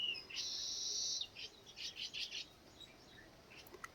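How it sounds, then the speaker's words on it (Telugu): Birds chirping in a village, with a sustained high call followed by a run of short, bright chirps and tweets that thin out into sparse calls over a quiet background. "ఊర్లో ఉంటే ఈ పక్షుల కిలకిల రాగాలు వింటూ ఉంటే మనసుకు చాలా ప్రశాంతంగా అనిపిస్తుందండి"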